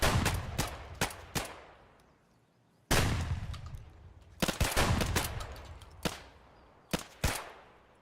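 Gunfire in a video game: single sharp shots and short bursts, each ringing out with a long decaying tail, spaced irregularly across the stretch with one near-silent gap, loud and close with no talk.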